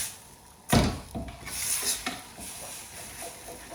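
A spoon scrapes and stirs chicken jalfrezi curry in a cooking pan, a few close clattering strokes over a soft sizzle.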